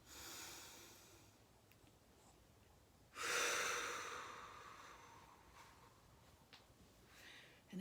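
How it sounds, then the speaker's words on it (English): Deep, slow breathing during a guided meditation, with a long, airy exhale rising midway and fading gradually, close and soft over a quiet background, no speech. "Breathe."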